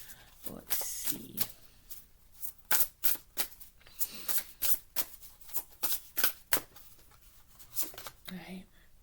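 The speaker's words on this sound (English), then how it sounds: "we're going to pull an oracle card, like always, from the Grief Journey Oracle" Oracle cards from the Grief Journey Oracle deck being shuffled in quick, crisp riffling bursts, close and fairly quiet, with a soft voice between the bursts.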